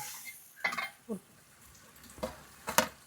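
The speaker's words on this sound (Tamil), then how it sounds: "கறி வதக்கிட்டு இருக்கோம்" Chicken sautéing in a pan for biryani: a few scattered scraping and stirring clatters over a faint, low sizzle, with quiet gaps between the bursts.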